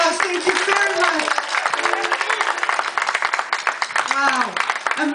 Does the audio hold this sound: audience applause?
yes